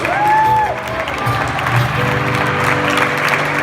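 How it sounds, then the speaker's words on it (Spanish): Wedding crowd applauding at a reception, a continuous wash of clapping with cheering, mixed with music and a voice at the start. "Para Víctor y Destino García, un aplauso muy fuerte."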